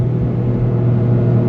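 2025 Toyota GR Corolla with automatic transmission and turbocharged engine, a loud steady low engine drone with a constant hum, no voices over it.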